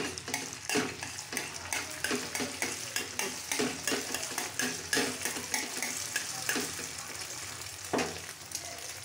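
Egg fries in a pan for egg toast with a continuous close sizzle, broken by frequent clinks and scrapes of a utensil against the pan, with no talk.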